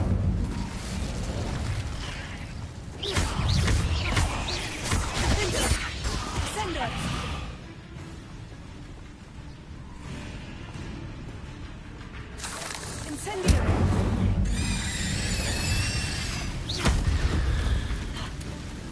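Hogwarts Legacy spellcasting: an Incendio fire spell erupts in bursts of roaring, whooshing flame, with loud blasts around five seconds and again around thirteen seconds, amid game noise and talking.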